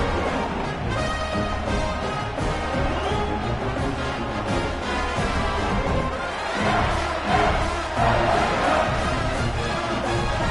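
Stadium crowd in the video game College Football 26, a dense, steady roar of fans cheering continuously at high volume with no speech.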